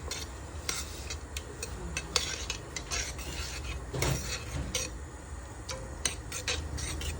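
A spoon stirring a cinnamon-spiced mixture in a bowl, with a continuous run of light scraping and clicking strokes, close and fairly quiet, with no talking.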